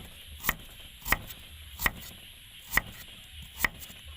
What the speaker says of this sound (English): So now we start to cut it.